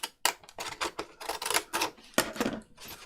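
Stiff, hard paper for a craft folio journal being torn by hand, in several short ripping bursts with brief pauses between them, close and fairly loud.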